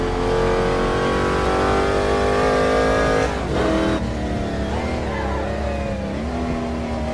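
A 600 HP 1963 Corvette Stingray in a racing video game revs hard at the Nordschleife, its engine droning loud and steady with a brief dip midway before climbing again.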